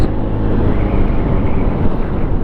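Motorcycles pulling away from a bikes and coffee meetup in Poolesville, Maryland, including a Royal Enfield and a BMW, make a steady, loud, close engine rumble with wind buffeting the microphone throughout.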